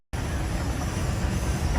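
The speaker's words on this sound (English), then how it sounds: "But here's the metro." An Athens metro train at a station near Omonoia Square in the city center, a loud, steady broadband rumble and roar that starts abruptly and continues throughout.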